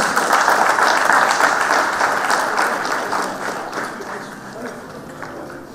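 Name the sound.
applause from conference audience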